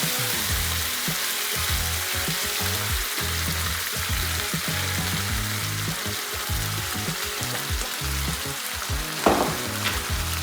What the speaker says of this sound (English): So we put a bit of tomato sauce in the pan,